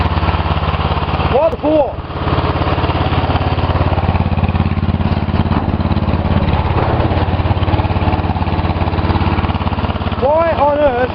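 A ride-on lawnmower engine runs steadily and close by throughout, a constant rough drone, while someone speaks briefly over it.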